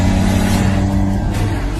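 A car engine roars loudly and close during a high-speed chase, revving hard and accelerating with a dense, continuous racing whine, and no voices over it.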